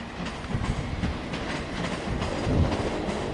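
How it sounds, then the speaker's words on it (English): A Great Western Railway train from London Paddington to Exeter St David's passes at Ealing Broadway on the Great Western Main Line, a steady close rumble with rhythmic wheel clatter over rail joints and no voices. "This should be the Great Western Railway service from London Paddington to Exeter St David's."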